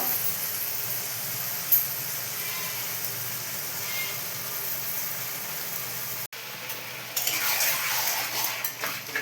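Mutton curry being stirred and fried in a pot, a low steady sizzle and hiss with a metal spoon scraping and clinking, a brief gap, then louder stirring and frying toward the end.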